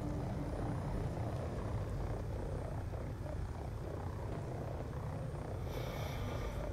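A dummy drone deployed in Call of Duty Black Ops 2 gives off a continuous, even rotor-like whir and rumble, steady and fairly close, with no talk over it.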